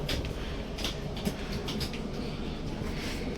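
Interior of a Rajdhani Express coach on Indian Railways, with a steady low rumble and rattle of the carriage filling the whole stretch, faint clicks and knocks above, no talking.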